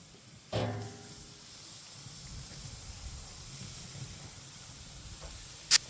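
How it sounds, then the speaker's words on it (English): Quiet, steady sizzling hiss of meat on a charcoal grill, with a brief clatter near the start and a sharp click near the end. "As you can hear the sizzling, everything is cooking very nicely"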